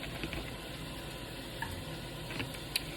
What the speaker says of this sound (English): And this is already starting to sizzle.